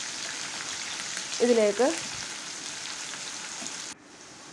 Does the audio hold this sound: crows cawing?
no